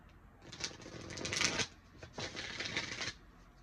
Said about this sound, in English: Such a beautiful shuffle.